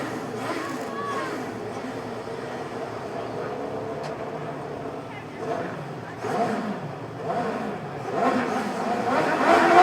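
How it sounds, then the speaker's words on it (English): Sidecar speedway engines at a 2019 final, revving on the start line before a qualifying heat, a steady mid-pitched roar that swells and surges toward the end while a commentator talks over it. "Engine begin to rev"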